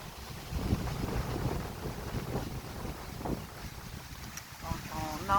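Light wind blows outdoors beside a tall pine, a soft continuous rush with gentle gusts that rise and fall, and a brief faint whistle near the end.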